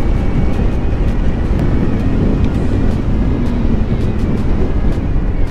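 A motorcycle riding along a road, heard as a constant loud roar of engine and wind rush with no breaks, steady and close, without speech.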